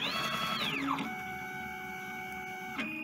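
A GCC Expert II LX vinyl cutter reading its pinch roller positions: a whining motor glides down in pitch, then the carriage hums steadily, ending with a short mechanical clunk, close and clear with no voices.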